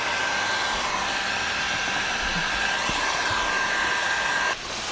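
A heat gun post-heating a vinyl skin on a Toyota Tacoma door panel gives a steady, loud, close airy blowing roar that holds unchanged and cuts off just before the end.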